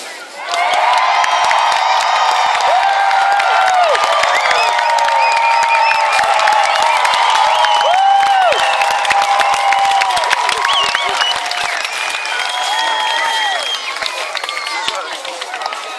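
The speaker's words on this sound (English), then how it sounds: "when I put my arm in the air, you need to cheer as loud as you possibly can" A large outdoor crowd at Hastings Pirate Day cheers, whoops and claps for the Red Arrows, with many children's voices among them, loud and sustained for the whole stretch and easing slightly toward the end.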